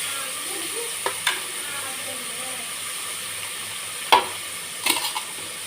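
A big onion sautéing in a pan for coconut-based chicken curry, a soft steady sizzle with a few sharp stirring clicks and scrapes of the spoon.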